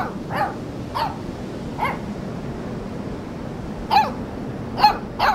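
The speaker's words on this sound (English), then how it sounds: "Let's play fetch with the pup." A dog in the video game Life is Strange 2, playing fetch, lets out about five short barks or yips, spaced roughly a second apart, over a steady ambient game background.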